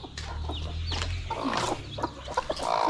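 Native country hens in a village poultry setup in the Konkan, clucking in short bursts close by amid light rustling, with no talk.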